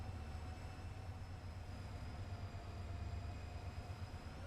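SD40-2 diesel locomotive in Train Sim World 2, a steady low rumble with faint tonal whine, constant and moderately quiet throughout.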